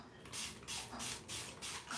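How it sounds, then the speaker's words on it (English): Water sprayed onto hair extensions from a spray bottle, four or five quick hissing bursts in a fairly even rhythm, close and clear with no talk. "I just lift these up, spray really nicely."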